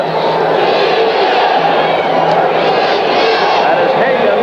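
A stadium crowd at the Houston Astrodome during a 1984 USFL football game between the San Antonio Gunslingers and Houston Gamblers gives off a steady, dense roar that holds at an even level throughout.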